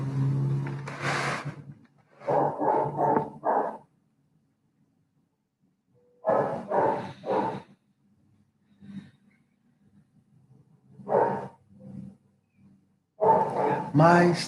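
A neighbour's dog barks in several bursts of three or four quick barks separated by long silent gaps, moderately near and clear.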